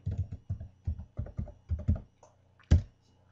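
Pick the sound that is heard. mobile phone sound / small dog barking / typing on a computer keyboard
typing on a computer keyboard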